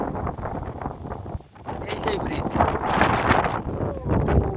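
Cold wind gusts buffet the microphone in a loud, rough rush while a person speaks over it.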